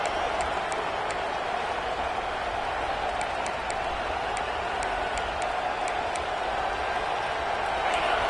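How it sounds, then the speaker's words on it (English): Steady, distant stadium crowd roar from a football video game, a continuous wash of cheering noise with faint repeated ticks above it, no voices standing out. "This crowd, full throat, spreading the eardrums and letting them know it's going to be a long day."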